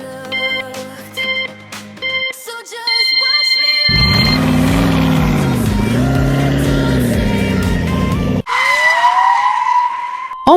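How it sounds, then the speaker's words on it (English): A car skids and spins out during a race in Roblox Berry Avenue: a loud, sustained tire screech with wavering pitch follows a beeping musical intro and ends in a sharp descending tone, with no talking. "Someone spun out."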